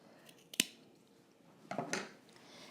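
Scissors snip away excess fabric at a sewn facing corner, two quick crisp cuts, the second a short cluster of blade closes, close and fairly quiet with no talk.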